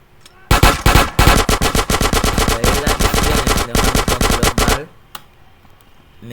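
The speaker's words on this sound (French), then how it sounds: "Mais les tirs d'hélicoptère ne me loupent pas," Rapid automatic helicopter gunfire in GTA San Andreas during a police chase, loud dense bursts of shots rattling almost continuously for several seconds before cutting off into quieter game ambience.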